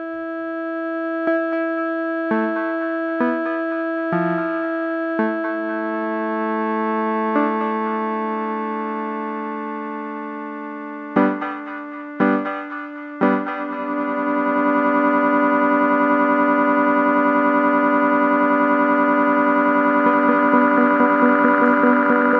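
Improvised synth notes frozen with a Gamechanger Audio Plus pedal, a series of sustained held tones with short stabbing attacks that build into one thick drone lasting to the end.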